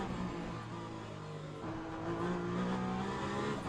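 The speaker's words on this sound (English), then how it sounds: "I can hear it now without taking my eyes off the road from the regen noise" Race car in a Le Mans Ultimate sim racing game with an electric regen whine layered into a steady engine drone, continuous and fairly loud, tones rising slightly midway, no talking.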